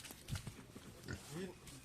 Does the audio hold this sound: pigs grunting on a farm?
yes